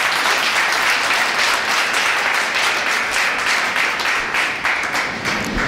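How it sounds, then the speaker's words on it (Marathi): An audience applauds at a book launch ceremony, with dense, continuous clapping from many hands that stays loud and even throughout. "या दोघांसाठी एकदा आपण टाळ्या वाजवून त्यांचं अभिनंदन करू."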